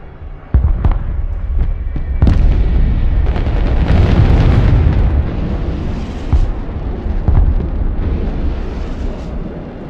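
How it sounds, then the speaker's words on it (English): A missile strike in the modern warfare video game Broken Arrow: a sudden loud blast followed by a long rumbling roar with scattered cracks and thumps, alone without voices. "As if that missile didn't hit."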